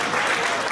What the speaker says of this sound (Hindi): अब ताली बंद करो